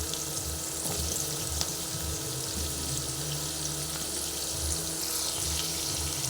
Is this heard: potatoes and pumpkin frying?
yes